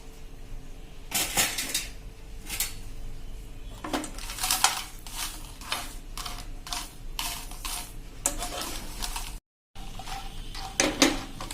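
A spatula clinks and scrapes against a pan over a medium flame as fifteen dried red chilies are stirred in oil until crunchy, giving irregular metallic clatters with short quiet gaps between them.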